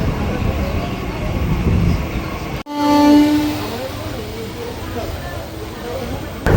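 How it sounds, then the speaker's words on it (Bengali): Ranaghat–Gede local train pulls out of Barnpur station, a rumbling run of carriages broken by a sharp cut, then a loud, sustained horn blast that fades into continued rolling noise. "বার্নপুর থেকে আমাদের ট্রেন ছেড়ে দিল"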